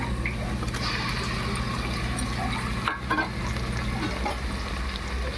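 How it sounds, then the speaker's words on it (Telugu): Ginger garlic paste fries in a pan for tomato rice, a dense continuous sizzle under a low steady hum, with a brief stir around the midpoint; close and even, no speech. "అల్లం వెల్లుల్లి పేస్ట్ పచ్చివాసన పోయేదాకా వేయించుకుందాం"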